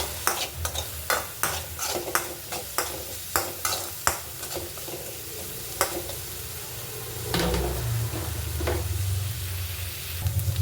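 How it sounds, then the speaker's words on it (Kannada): Crushed ginger and garlic frying in a pan, with a utensil scraping and tapping in quick repeated strokes over a soft sizzle that swells louder near the end. "ಶುಂಠಿ ಬೆಳ್ಳುಳ್ಳಿ ಜಜ್ಜಿರೋದು ಹಾಕ್ಕೊತಾ ಇದ್ದೀನಿ"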